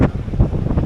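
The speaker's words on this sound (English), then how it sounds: "And indeed, listen to the wind." Strong sea wind at Brighton Pier buffets the microphone in loud, rumbling gusts, a close, continuous roar with no voices.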